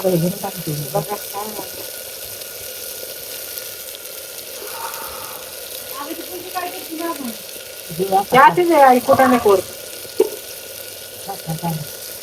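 Ground masala paste for khar vangi (brinjal curry) sautés in a pan, a soft sizzle with scraping stirs, under intermittent voices talking and a brief louder burst of speech midway.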